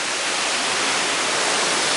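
A waterfall on the Harding Truck Trail pours in a steady, dense hiss that stays loud and unbroken, with no other sounds over it.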